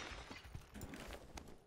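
Glass shatters in a first-person shooter match, a busy clatter of breaking panes mixed with game noise, fairly quiet and spread across the moment with several sharp cracks.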